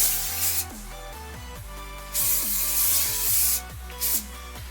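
Several short bursts of aerosol hairspray hiss over steady background music, coming in quick sprays with brief pauses between.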